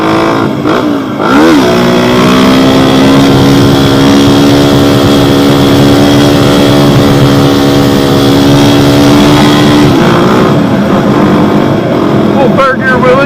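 A Honda XR250 motorcycle engine held in third gear through a wheelie, a loud, steady, close-up drone that climbs slightly in pitch and runs continuously for about ten seconds before easing off.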